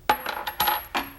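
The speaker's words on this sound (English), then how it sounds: "one washer falling on the table and the floor." A single metal washer drops and clatters, bouncing a few times on a table and then the floor in quick, bright metallic clinks, close and alone.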